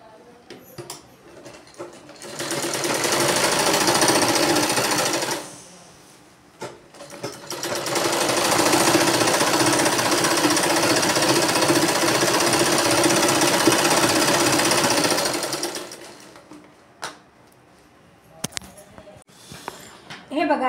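A sewing machine stitches a blouse sleeve, running in two loud rapid bursts, a short one and then a longer steady one, close by. Someone talks in the quieter gaps before and after.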